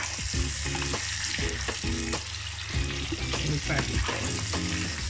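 Cubes of paneer fry in oil in a pan for chilli paneer, giving a steady loud sizzle broken by repeated scraping and clinking of a stirring utensil, with no talking.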